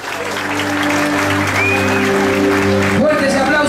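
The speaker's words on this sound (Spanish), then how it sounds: "Fuerte el aplauso para el número 3 del certamen, Sebastián Pepo Pérez." An audience applauds steadily at a summer awards ceremony as contestant number three, Sebastián Pepo Pérez, is honored, with sustained musical tones and a voice running beneath the clapping throughout.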